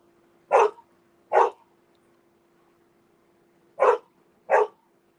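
A dog barks close by outdoors in two quick pairs of loud, sharp barks with a pause between the pairs, over a faint steady hum.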